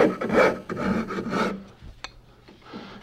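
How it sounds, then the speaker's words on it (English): A wood rasp files the edges of a traditional sawbench in several rough, rasping forward strokes, close and fairly loud, ending in quieter scraping. "The other saw's best friend is the rasp, and you can break those edges"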